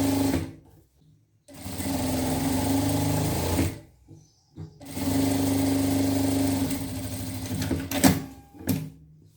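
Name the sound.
sewing machine stitching dress side seams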